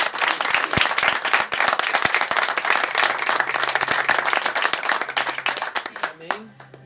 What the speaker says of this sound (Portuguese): Será que nós podemos aplaudir ele?